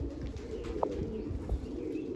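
Soft, low pigeon coos sound against a steady background hum, with a brief brighter call partway through; no one speaks.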